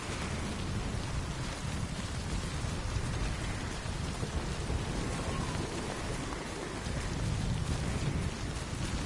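Steady rain hisses down in the video game Death Stranding, a dense, continuous wash of drops on surfaces, moderately faint and unbroken, with no talk over it.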